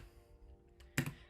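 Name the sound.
typing a search term on a computer keyboard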